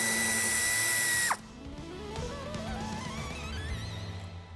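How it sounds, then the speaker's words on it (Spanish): A power tool whirs briefly while loosening a screw on a battery terminal of a 2023 Ford Tourneo Custom, then cuts off, leaving a steady mechanical hum with a rising whine in the background. "Aflojamos el tornillo."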